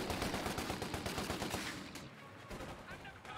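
A rapid burst of automatic gunfire in the video game Company of Heroes 2 rattles loudly, then trails off into quieter scattered shots and ambient noise.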